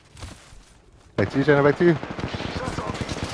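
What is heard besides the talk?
gunfire in the video game Apex Legends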